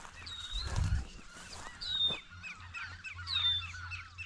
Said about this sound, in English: Wood duck, hear them.